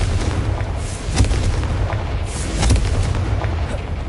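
A Confringo blasting spell in a Harry Potter video game, a loud rumbling explosion with booming bursts rolling over a few seconds, close and heavy.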